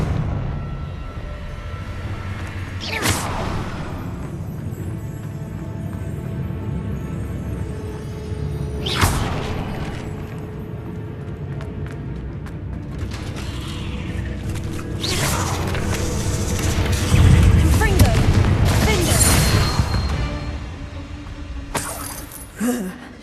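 Confringo spell blasts in the Hogwarts Legacy video game, several sharp bursts spread across the stretch with a heavier rumbling explosion near the end, over a steady background of game ambience.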